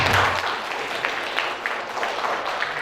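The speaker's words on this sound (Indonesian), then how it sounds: "Tepuk tangan untuk teman-teman apoteker semuanya" Audience applause for pharmacists at a pharmacists' association seminar and working meeting, a steady wash of clapping through the whole stretch, moderately loud with a few sharper claps poking out.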